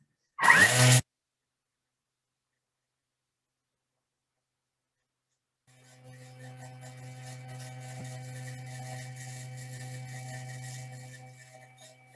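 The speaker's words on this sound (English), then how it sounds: "We're going to give it a second mill now that we've scraped it down" A kitchen mill running on speed 9 to grind aniseed, producing a steady, loud motor whir with a rattling, buzzing grind that holds for several seconds before tapering off, after a short burst of noise and a long silence.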